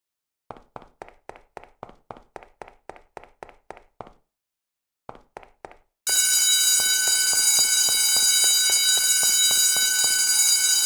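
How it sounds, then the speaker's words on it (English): Alarm in the video game The Baconing: a run of sharp rhythmic clicks or taps, a brief pause, then a loud, continuous ringing alarm cutting in abruptly and holding steady with a regular pulsing beat underneath. "This alarm sure is loud."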